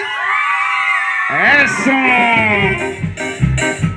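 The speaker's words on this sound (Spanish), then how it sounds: "Que se escuche ese grito de las mujeres." A party crowd of women at a birthday celebration with a live orchestra screams and whoops together in a loud, sustained group cheer, while a voice speaks over the noise near the end.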